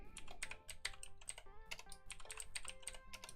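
Keys clatter on a newly plugged-in computer keyboard during a live Pokémon card shop session, a fast, close, continuous run of crisp clicks with short pauses and no talking.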